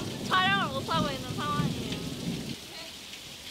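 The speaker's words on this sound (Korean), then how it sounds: "비가 오네요." Rain falls steadily on a film set in Jeju, with a soft broadband hiss throughout; a voice speaks over it in the first half, and thunder is not clearly distinct.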